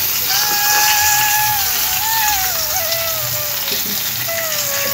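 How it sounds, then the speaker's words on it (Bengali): Salted pointed gourd pieces fry in a pan over a high flame, giving a loud, steady sizzle with thin whistling tones drifting over it throughout. "হাই ফ্লেমে রেখে পটলগুলো আমি একটু ভাজা ভাজা করে নেব।"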